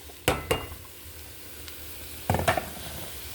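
Carrots and onions are stirred in a little oil in a pot, with two quick scraping clatters of a utensil against the pot, a brief pause of low sizzle, then another cluster of scraping stirs.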